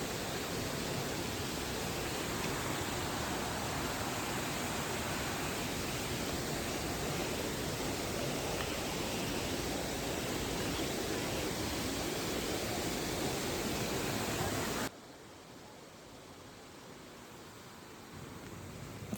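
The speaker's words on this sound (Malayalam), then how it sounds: "നമുക്ക് വെള്ളച്ചാട്ടത്തിൻ്റെ അരുവിയുടെ ആ ഒരു ഒച്ച മാത്രമേ ചുറ്റും കേൾക്കാൻ സാധിക്കുകയുള്ളൂ" A waterfall and stream at a garden of caves, a steady, dense rushing roar that holds close and loud, then drops suddenly to a quieter, more distant wash near the end.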